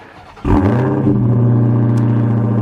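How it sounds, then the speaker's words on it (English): A Dodge Charger SRT Hellcat Widebody engine cranks and roars to life with a sharp rev, then settles into a loud, steady, rumbling idle close by. "double tap on the engine start stop button, it's gonna roar to life"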